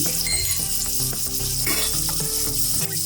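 Chopped onion sizzling in hot oil in a pan for spicy village-style mutton, a steady dense frying hiss with faint clinks, close and continuous throughout.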